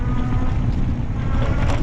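Steady low rumbling cold wind buffets the microphone continuously during a bike ride, a dense roaring noise with no voices.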